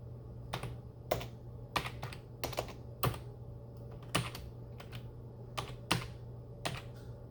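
An Alt code is entered on a computer keyboard as a quiet run of separate keystrokes, clicking at an irregular pace over a low steady hum, with no speech.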